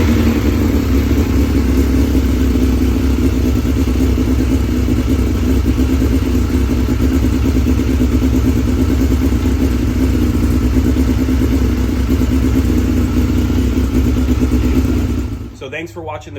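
A 2006 Suzuki GSX-R 1000 motorcycle engine runs at a steady idle after a fuel pump replacement, a loud continuous close-up drone that cuts off near the end.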